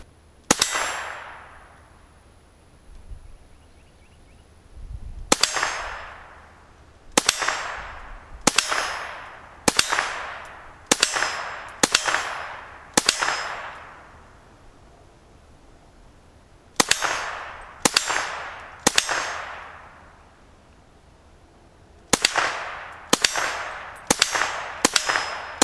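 A .22 MP40 fires at an AR500 half-inch steel plate on an outdoor range, each shot a sharp crack followed by a long ringing clang, in steady bursts of several rapid hits separated by short pauses.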